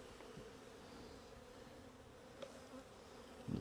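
Honey bees buzz steadily at a hive during a mid-July inspection, a continuous low drone held close and fairly even, with a brief louder rustle near the end.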